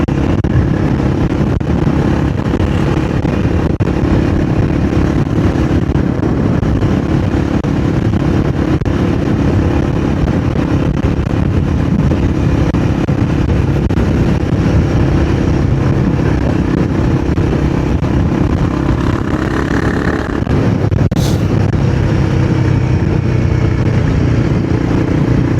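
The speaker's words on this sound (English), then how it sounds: "it's got a nice crackle with it. Bit of a hooligan exhaust." Royal Enfield Guerrilla 450 motorcycle with an aftermarket exhaust runs loud and close for the whole stretch, a steady engine drone with rough crackling texture and a brief rise in revs near the end.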